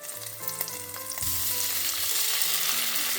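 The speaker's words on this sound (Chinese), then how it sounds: "等翻炒出有香味之后呢，我们加入腌制好的虾仁" Marinated shrimp hit a hot wok with scallion and ginger shreds for a shrimp and asparagus stir-fry, setting off a loud, steady sizzle that swells and holds, with a few spatula scrapes early on.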